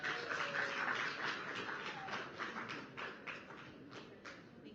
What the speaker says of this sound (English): Thank you for clapping. That was really sweet.